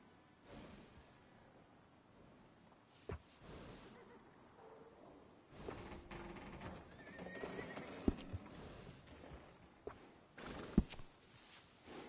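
Horse in the Red Dead Redemption 2 video game whinnying and snorting at close range, with a few hoof clops and quiet movement between calls.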